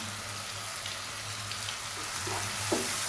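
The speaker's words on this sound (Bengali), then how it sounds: "এবার আমি সবগুলো উপকরণ ভেজে নেব" Ground chili, turmeric, coriander and salt fry in oil for a tilapia curry, making a steady moderate hiss of sizzling with a few faint scrapes toward the end.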